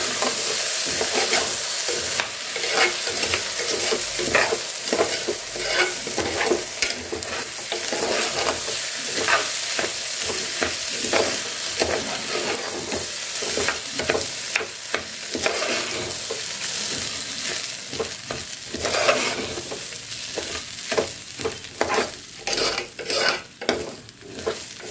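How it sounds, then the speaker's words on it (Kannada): Washed rice roasting in ghee in a pot, stirred constantly with a spoon, giving a close, busy texture of scraping, rustling grains and light sizzle that continues throughout with rhythmic stirring strokes and no voices. "ಇವಾಗ ಚೆನ್ನಾಗಿ ತುಪ್ಪದಲ್ಲಿ ಹುರ್ಕೊಳ್ಳೋಣ ಅಕ್ಕಿನ."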